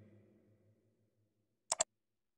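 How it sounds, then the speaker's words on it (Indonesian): Quiet low murmur fades out, then a mouse click sound effect: two quick, crisp clicks in close succession against silence. "ada yang mouse klik dan laptop klik ya."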